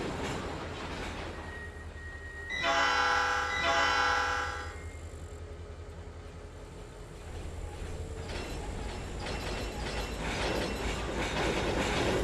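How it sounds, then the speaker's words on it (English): A CSX freight train rolls past in the railroad simulator Trainz 2022, its rumble swelling loud for a couple of seconds mid-clip before settling into a steady rolling drone, with no talking. "That's probably that CSX going by."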